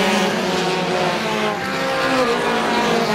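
Race cars roar around the Star Speedway oval during a Roadrunner feature, a dense, loud, continuous engine drone with tyre squeal as the pack passes close.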